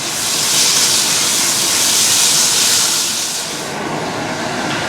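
Curry spices and garlic sizzle loudly in a hot pan, a dense steady hiss that holds strong and then eases slightly toward the end, with no speech.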